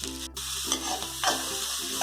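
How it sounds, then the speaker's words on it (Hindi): Finely chopped onion frying in hot oil with fenugreek seeds and ajwain for bhindi do pyaza, a steady close sizzle broken by a few stirring scrapes, with no talking. "अब हम लोग को अपने प्याज को लाइट गोल्डन फ्राई करना है"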